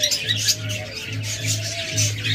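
Cockatiels, lovebirds and diamond doves in a pet bird shop squawk and chirp together, a dense nearby chatter of calls over a low steady hum.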